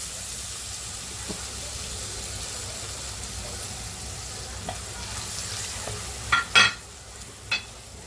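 Dry spices and kokum fry in a pan with a steady low sizzle, and a few sharp scraping stirs come near the end, with no talking.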